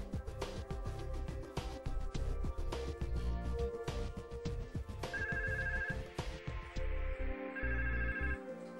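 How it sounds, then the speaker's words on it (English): A 3CX phone extension rings for an incoming call routed over an E1 trunk, a steady repeating electronic ringtone pattern heard alone and fairly quiet. "The corresponding 3CX extension rings."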